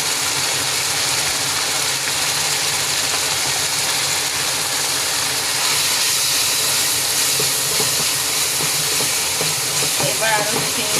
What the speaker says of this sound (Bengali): এবার আরও 2-3 মিনিট এটাকে ভালো করে কষাবো